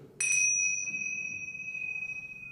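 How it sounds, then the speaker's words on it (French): A bell struck once with a clear, bright ring that sustains evenly and slowly fades, loud and close with no voices around it. "le clair tintement d'une cloche"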